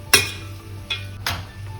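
Ginger garlic paste hitting a hot AMC frying pan, giving brief sizzling bursts with a couple of sharp utensil clinks against the pan, close and fairly quiet.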